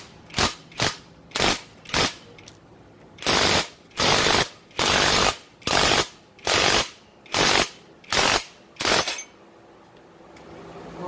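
A car's upper control arm ball joint is forced out with a press setup, giving a series of about a dozen loud, sharp mechanical bursts, each a short ratcheting or impact-wrench-like rattle, in uneven rhythm close by before falling quiet.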